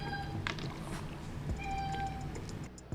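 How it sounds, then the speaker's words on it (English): A cat wanting to be let in meows a few times, fairly close, with quiet room noise around it. "my cat wants to come in"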